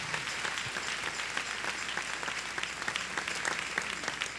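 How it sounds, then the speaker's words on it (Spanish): A church congregation applauds at a Spanish-language sermon, a steady dense wash of clapping from many hands holding at an even level throughout, with no voices over it. "Denle un aplauso al Señor"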